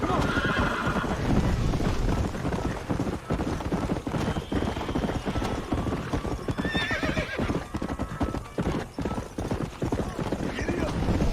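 Horse hooves clip-clop at a steady gallop in the Red Dead Redemption video game, with whinnies and neighs breaking through, while a rider's shouted commands come and go over the continuous loud hoofbeats.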